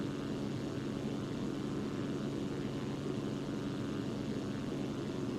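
Steady propeller drone of a Zlin Z-142 light aircraft engine in the X-Plane flight simulator, a constant, even hum held at near-level loudness throughout with no talk.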